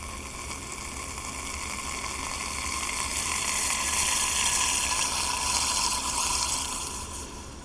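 Liquid nitrogen boils and hisses steadily during cryo sample preparation, a continuous broadband rushing that swells toward the middle and eases off near the end.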